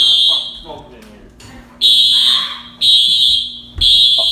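A college dormitory fire alarm sounds in three loud, piercing pulses of electronic tone, with people talking and moving in between the blasts.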